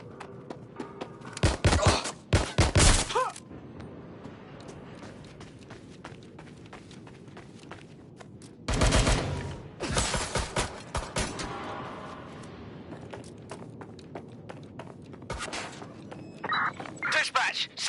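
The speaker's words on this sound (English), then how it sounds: "I'm taking fire!" Bursts of gunfire in the video game Watch Dogs Legion, several loud rapid volleys separated by quieter stretches with footsteps and movement, with voices talking in between.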